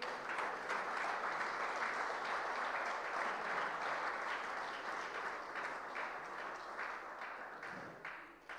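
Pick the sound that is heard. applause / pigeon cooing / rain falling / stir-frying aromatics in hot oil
applause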